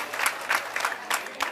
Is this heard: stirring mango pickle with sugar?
no